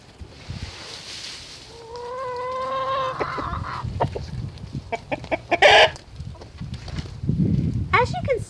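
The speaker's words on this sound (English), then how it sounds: "the chickens love the leaves" Backyard chickens cluck and crow in their run as they pick through fallen leaves mixed with grass clippings; a drawn-out crow rises early, then scattered close clucks follow, and a person speaks intermittently nearby.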